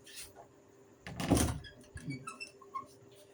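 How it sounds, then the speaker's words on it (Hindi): An indoor door is pushed shut with one fairly close swish and thud, followed by a few lighter knocks and rustles in a quiet room. "मुझे एक मिनट दरवाजा बंद कर दो"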